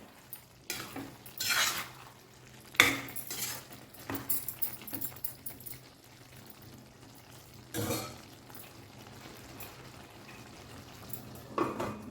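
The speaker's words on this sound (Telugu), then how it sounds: "ఒకసారి అడుగు నుంచి అడుగు నుంచి కలపండి" Tomato and chili chutney stirred from the bottom of a pan, with close, intermittent scraping strokes over a soft sizzle and quiet gaps between stirs.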